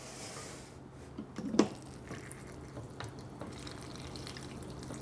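Water is added to an ice cream mix in a container and stirred, giving soft drips, splashes and a few sharp knocks and scrapes, close by and fairly quiet.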